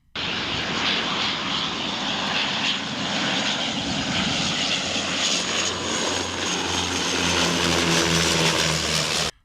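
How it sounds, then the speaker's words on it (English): A Bahamasair propeller airliner flies low over Mayaguana Airport on a runway-assessment pass, its steady engine drone loud and continuous throughout, rising slightly as it passes close overhead. "A flyover the Mayagüana Airport by Bahamas Air to assess the runway"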